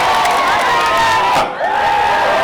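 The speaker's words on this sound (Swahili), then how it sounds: "Asanteni, mpigie makofi" A loud crowd at a political rally cheers and shouts together, a sustained roar of many voices with a brief dip before the noise swells again.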